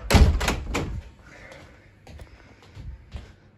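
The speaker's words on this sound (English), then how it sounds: "Close the door again." An exterior door pulled shut with a firm thump and rattle while an alarm system is being tested, followed by a few quieter knocks and handling sounds.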